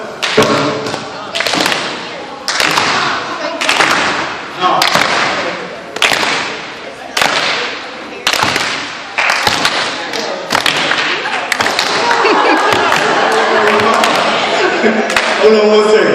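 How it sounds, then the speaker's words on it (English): A youth conference audience in Winder, Georgia claps together in a steady beat, loud sharp bursts about once a second, then the clapping blends into a continuous wash of crowd noise and music. "All right, here we go. We're gonna clap."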